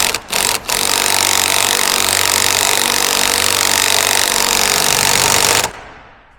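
A 17mm socket on an impact tool drives ARP wheel studs into a Nissan 350Z hub: after two quick bursts, a loud, continuous buzzing rattle runs for about five seconds, then stops abruptly.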